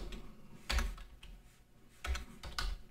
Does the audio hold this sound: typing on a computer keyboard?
yes